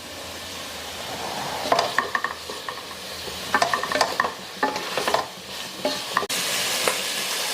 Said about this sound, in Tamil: இப்போ வந்து காய் கொஞ்ச நேரம் சிம்பிள் வச்சு வேகட்டும் கொஞ்சோண்டு புதினாவும் மல்லியும்